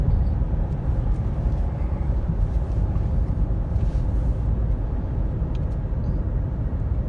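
Engine and road noise from a 2011-2012 Ford Escape Limited while driving, a steady low rumble and hum at constant loudness with no talking.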